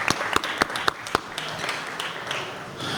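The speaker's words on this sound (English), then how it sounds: "Give them a big round of John applause." Audience applause in the Los Angeles City Council chamber, with scattered sharp claps dense in the first second and a half, then thinning into a softer patter of fewer hands.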